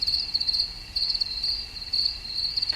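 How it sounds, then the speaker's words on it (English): Crickets chirp steadily in pulsing bursts, a high, bright trilling that repeats without pause over a quiet background. "the peaceful sounds of chirping crickets is constant for Kevin Bachhuber."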